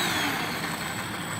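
The motor of a radio-controlled Airbus A320 model plane taxiing at low throttle gives a short, steady, whirring hum at moderate level.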